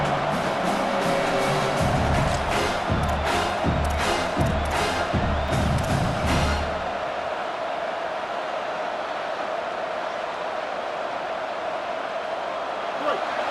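In a college football video game, a stadium crowd cheers and roars loudly for several seconds with rhythmic bursts, then drops abruptly to a quieter background murmur.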